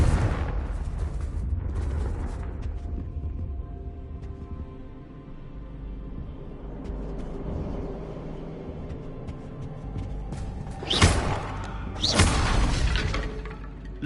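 A Confringo blasting spell explodes in Hogwarts Legacy: two loud, booming blasts about a second apart, heard after a long, quieter stretch of game ambience.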